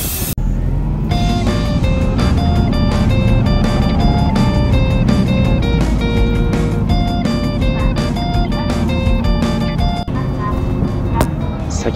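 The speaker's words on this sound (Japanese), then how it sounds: "それではバスに乗車していきましょう。" A Toei city bus heard from on board while driving: a steady engine and road rumble fills the whole stretch, with a Japanese narrator talking over it and music playing throughout.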